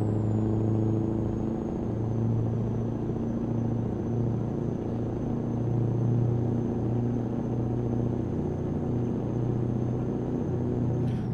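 A Scania truck in Euro Truck Simulator 2 rumbles along steadily with a deep engine drone, and a thin, high turbo whine holds on top of it almost the whole time.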